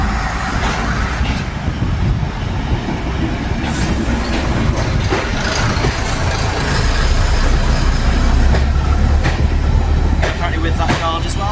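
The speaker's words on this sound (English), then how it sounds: "This is the DMU that I'm going to be driving" A diesel multiple unit train running on the line gives a loud, continuous rumble with rail clatter and rattling that swells toward the end, close and steady throughout.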